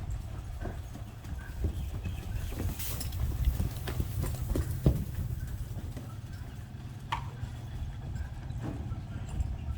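A horse trots and canters in a fairly enclosed arena, its hooves making a quick, rhythmic clip-clop over a steady low rumble, moderately close, with no talking.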